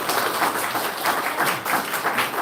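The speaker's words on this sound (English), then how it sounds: "Can I have a round of applause for Aisha," A dense round of applause for Aisha at a community iftar, continuous, evenly textured clapping from a room full of people.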